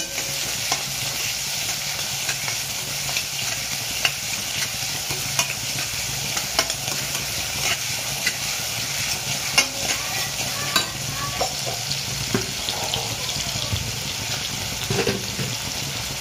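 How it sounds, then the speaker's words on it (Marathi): Onions frying in oil in a pan for Maharashtrian zunka, a dense, continuous sizzle with frequent stirring scrapes over a long stretch, close and steady with no voice. "कांदे पण व्यवस्थित आपण तेलामध्ये फ्राय करून घेऊ"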